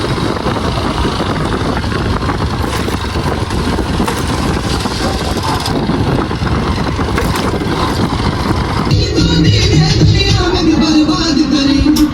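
A motorbike engine idles with a steady, loud rumble that runs throughout, its tone shifting slightly near the end, with no talk over it.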